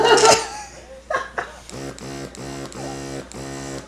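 A small electric nasal aspirator for a baby buzzes in short regular pulses after a brief burst of baby fussing and laughter, the motor drone repeating close by.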